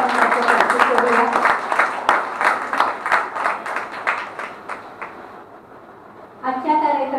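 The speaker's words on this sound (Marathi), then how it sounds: "जरा टाळ्या वाजवून आपण त्याचं कौतुक करूया." An audience at a charity sound system donation event breaks into a round of clapping that starts strong and thins out over several seconds, after which a voice begins speaking.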